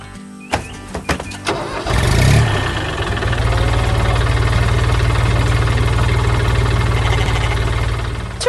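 A cartoon blue truck's engine starts with a few clanks, then settles into a loud, steady, cheerful rumble that runs on alone.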